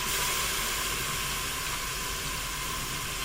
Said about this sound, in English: give them a little sear in the Instant Pot. So you can hear that sizzle.